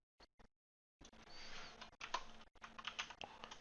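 A few soft keystrokes on a computer keyboard while entering a value in Microsoft Excel, a couple of isolated taps followed by a short run of typing, quiet and close, with no talking.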